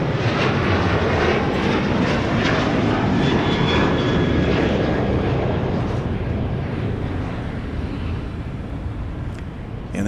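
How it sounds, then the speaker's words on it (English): A Southwest Airlines Boeing 737 takes off at night at Dallas Love Field, a loud, steady jet engine roar that fills the whole stretch, easing slightly toward the end as it climbs away. "And there's our first takeoff of the night. What's a Southwest Airlines 737?"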